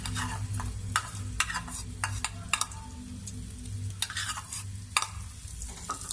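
Ginger garlic paste sizzles steadily in hot ghee while a spoon scrapes and taps the pan in irregular strokes, close and continuous.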